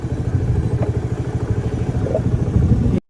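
A scooter idles steadily at close range with a low pulsing engine rumble and light clatter as it pulls over at a roadside in the hills near Vellore, running continuously until it cuts off abruptly at the end.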